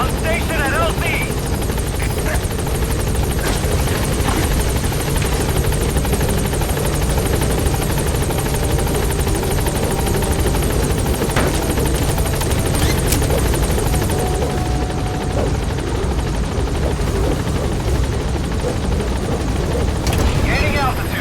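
The Pequod helicopter from a Metal Gear video game drones and thumps with a loud, steady rotor sound near the landing zone, continuous throughout, with radio-style speech heard over it.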